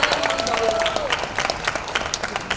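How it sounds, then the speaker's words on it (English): An audience applauds a makeup artist at a live makeup event, with dense, sustained clapping and crowd noise, a voice briefly audible over the hands. "A big round of applause."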